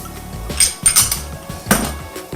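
Zucchini and squash tipped into a hot sprayed pan, a few sharp clattering knocks of pieces and utensil against metal, close and brief with faint sizzle between.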